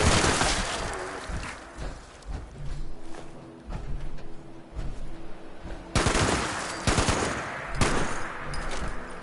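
An aircraft machine gun fires in the Fallout 76 Wastelanders video game, rapid bursts of close, loud gunfire that swell and fade in several volleys over a rumbling background.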